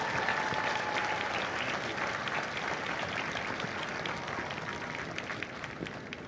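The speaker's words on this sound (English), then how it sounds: "So please join me in a well-deserved round of applause for the drill instructors and families of Delta" A large crowd applauds at a Marine Corps recruit graduation for Delta Company at MCRD San Diego, honoring drill instructors and families; dense, steady clapping continues at an even level throughout, a little distant and fading slightly near the end.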